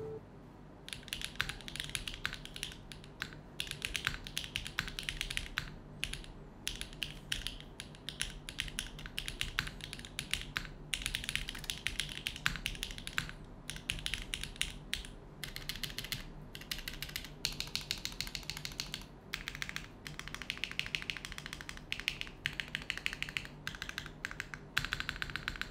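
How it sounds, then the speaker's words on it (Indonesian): Fast typing on a Neo 80 mechanical keyboard with Hyacinth switches, foamless build and dumbbell mounting, a dense clacky stream of close keystrokes with short pauses, alone with no talk. "Dan kita akan typing test aja right now."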